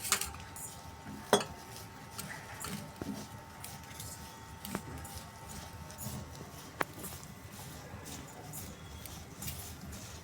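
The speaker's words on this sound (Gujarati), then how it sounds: "હવે આપણે પાલક નાખીશું અંદર મેથી એડ કરી દઈશું અને હવે આપણે એને મિક્સ કરીશું" Spinach and fenugreek stirred into pakoda batter in a bowl, soft wet mixing with scattered clinks of a spoon against the bowl, fairly quiet and close.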